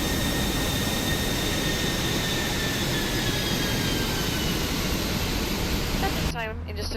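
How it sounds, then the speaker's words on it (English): A jet airliner's number 1 engine spooling up at the gate in Microsoft Flight Simulator 2024, a steady loud broadband roar with rising whine tones that cuts off abruptly near the end. "Let's go for engine number 1 start today."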